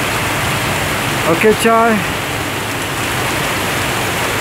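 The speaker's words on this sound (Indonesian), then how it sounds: "Awas bu, masih hujan bu." Steady rain falls as a loud, even hiss throughout, with a short burst of voices partway through.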